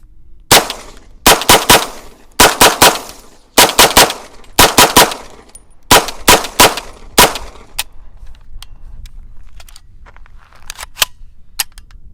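UTAS UT9M 9mm pistol-caliber carbine firing from a factory Glock 17 magazine, loud sharp shots in quick bursts of two to four, then fainter scattered clicks and handling noises.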